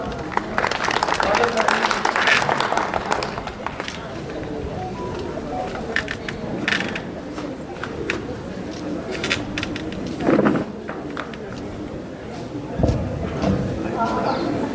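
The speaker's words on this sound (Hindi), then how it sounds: "आप आएंगे, स्वागत करेंगे तालियों से आपका" Audience members at a national astrology conference in the City Palace, Udaipur, clap in welcome. The applause is fairly soft and scattered, mixed with talk and room noise throughout and fading gradually.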